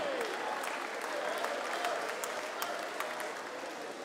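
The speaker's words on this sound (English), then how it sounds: "Round of applause for both fighters this evening." A kickboxing crowd at a K-1 fight night applauds both fighters: dense, steady clapping from a large audience that fills the hall without a break from start to finish.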